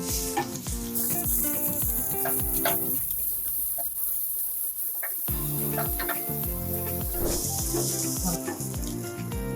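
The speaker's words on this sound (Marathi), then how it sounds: "आता या सगळ्या भाज्या मी चांगल्या भाजून घेणार" Mixed vegetables including capsicum are stir-fried in a hot pan for restaurant-style veg fried rice, giving a continuous loud sizzle with clattering and scraping of the spatula throughout.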